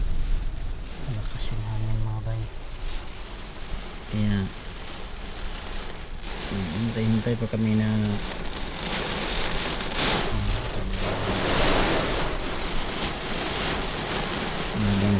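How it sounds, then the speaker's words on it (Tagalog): Heavy rain pours down steadily and loudly, with gusting wind, while a person talks intermittently over the downpour. "Grabe ang ulan."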